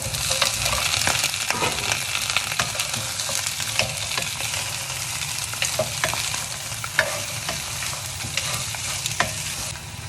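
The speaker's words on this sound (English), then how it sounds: "We can now add the beef back to the wok for some browning." Beef short ribs brown in a hot wok, a constant close sizzle with frequent clattering stirs and scrapes spread irregularly throughout, no voices.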